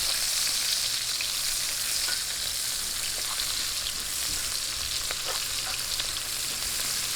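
Onions are added to garlic that has been fried light brown in a pan for Filipino chicken sarsa with Sprite. A loud, dense, steady sizzle with faint scattered crackles runs throughout with no speech.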